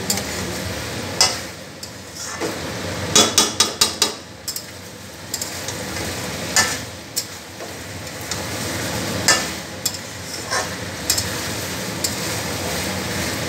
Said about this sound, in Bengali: গ্যাসের ফ্লেমটাকে একটু বাড়িয়ে দেবো, বাড়িয়ে দিয়ে আর একটু কষে নেব